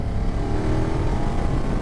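A 2024 BMW F900 GS motorcycle engine accelerating under load during a riding test, a steady, dense rumble with wind and road noise mixed in, continuous and fairly close.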